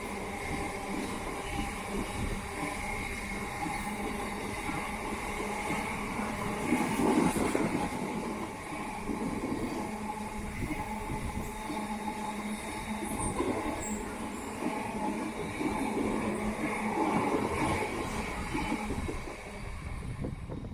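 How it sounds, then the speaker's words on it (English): A train rumbles steadily past a station on a busy London line near Acton Main Line, with a continuous mid-distance roll of wheels and faint squeals swelling slightly midway and fading toward the end. "Freight trains are very common to see on this line as they head to the sidings near Acton Main Line."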